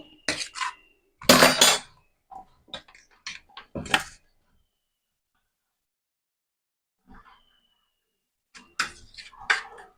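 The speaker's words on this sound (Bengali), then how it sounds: "এবার আমি একে একে এর মধ্যে মাছগুলোকে দিয়ে দেবো।" Rohu fish pieces go one at a time into a pan of poppy-seed spice paste, making sharp clinks and soft knocks against the pan. A long quiet gap falls between the early handling and a final cluster of taps.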